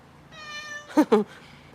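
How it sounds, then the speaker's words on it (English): A Siamese cat asking for a snack gives two short, close meows in quick succession after a thin, drawn-out whine, with a quiet room around it and no talking. "My Siamese cat. He wants a snack."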